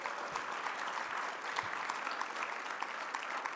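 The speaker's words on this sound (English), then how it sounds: "You could give him a round of applause." Applause from the audience at a policy summit's closing session, a steady wash of many hands clapping that sounds somewhat distant and even, with no speech over it.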